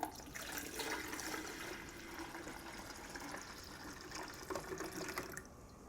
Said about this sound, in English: Here is Aeocky's water. Let's just pour it in and see what we get.